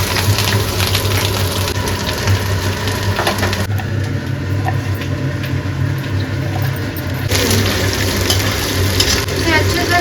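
Asafoetida hits hot oil in a home kitchen pan, giving a steady crackling sizzle with scraping and stirring clatter throughout, loud and close, with a brief dip in brightness midway.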